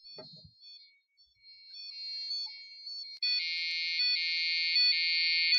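Buzzer tones from an Arduino piezo driven by looping code: after a brief thump, a thin, shrill electronic beep wavers in pitch, then turns into louder, rapidly repeating bursts of a high alarm-like tone.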